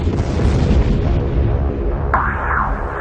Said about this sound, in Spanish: hubo explosiones múltiples